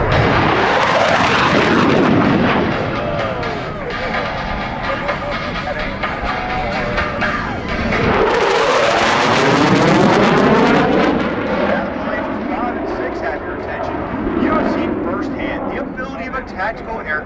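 U.S. Navy Blue Angels jets roar past in diamond formation at an airshow in El Centro, a loud sustained jet rush that swells, fades slightly and surges again as the formation passes, with a commentator talking over the noise.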